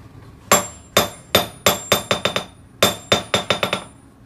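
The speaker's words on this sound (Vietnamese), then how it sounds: "Khoan vô cái đe coi." A Japanese hand-forged steel hammer with a ball-peen head strikes an anvil about thirteen times in two quick bursts, each blow a sharp, bright metallic ring with a short decay, loud and close.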